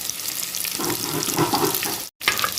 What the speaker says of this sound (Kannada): ಒಂದು ನೀರುಳ್ಳಿ ಹಾಕಿ ಕರಿಬೇವು ಹಾಕಿದ್ದು